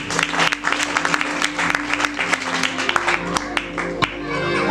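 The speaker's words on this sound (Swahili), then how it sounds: "Pigie makofi mazuri." Applause from a church congregation during a Swahili sermon, a dense, sustained patter of many hands clapping with a steady, fairly loud body over a hum of background music.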